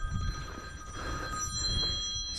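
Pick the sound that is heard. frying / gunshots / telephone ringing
telephone ringing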